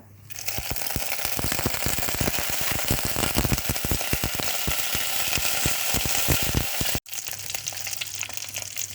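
Dried chili and fenugreek fry in hot oil in a pan, a loud close sizzle packed with rapid spitting pops that breaks off abruptly and resumes softer, no voices.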